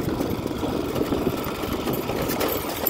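A motorcycle engine running and revving on a loose, rough dirt road in the countryside, a steady buzzing drone that stays loud and close throughout with no talk.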